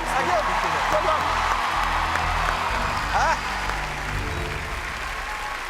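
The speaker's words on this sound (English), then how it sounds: "You're going to get a round of applause." Applause from a talent show audience, a steady, dense wash of clapping and crowd noise with low rumble underneath, holding fairly loud throughout and easing slightly toward the end.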